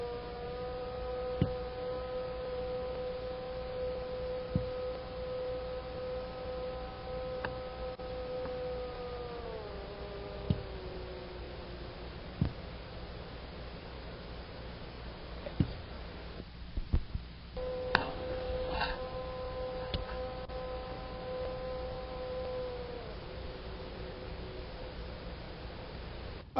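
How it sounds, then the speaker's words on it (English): A tape recorder's drive running in the background: a faint, steady motor hum with a few tones that slide down in pitch, plus scattered sharp mechanical ticks and clicks. "But you were hearing my tape recorder."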